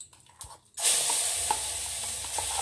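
A ground spice mixture added and stirred into shahi bharta in a hot pan: a soft clatter, then a sudden loud sizzle that carries on steadily with light scraping taps of a spoon, no voices.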